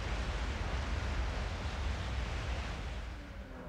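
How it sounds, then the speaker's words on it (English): Big waterfalls in the video game Dreams rush as a steady, dense roar of falling water, constant and fairly soft, with no voices over it. "Oh, those waterfalls are big."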